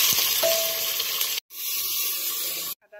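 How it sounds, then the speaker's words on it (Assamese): Spices and onions frying in oil inside a pressure cooker for chicken biryani, a steady close sizzle and hiss with two brief silent gaps, no talking. "মছলাখিনি অকণমান ফ্ৰাই হোৱাৰ পিছতে পিঁয়াজখিনি দি দিছে"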